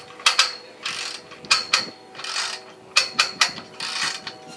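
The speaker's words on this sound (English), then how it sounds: "you're going to start to ratchet" A Big Screw aircraft tie-down strap is cranked tight with a ratchet, giving repeated clicking bursts in uneven groups of two or three, close and fairly loud, separated by short pauses.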